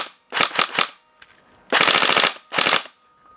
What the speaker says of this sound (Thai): เห็นไหมฮะจะยิงได้เลย